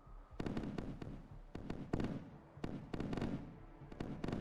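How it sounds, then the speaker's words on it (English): Anti-aircraft flak fire in the naval game Sea Power: rapid, irregular bursts of sharp pops and thuds come in clusters, some close together and others spaced apart, at a moderate distance without talk. "There's the flak."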